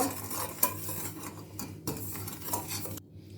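Ingredients for a tiramisu made with store-bought sponge cake are stirred in a bowl with a utensil, producing soft scraping and a few light clinks, close and quiet, ending in a brief near-silence.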